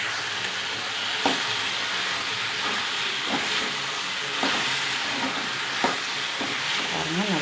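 Drumstick leaves and seeds sauté in a pan with a steady hissing sizzle, punctuated every second or so by soft scraping stirs, fairly loud and close, with nobody talking.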